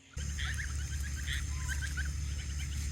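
Domestic geese in a flock grazing on grass among turkey oak leaves, giving repeated honking and gabbling calls at close range over a steady low hum.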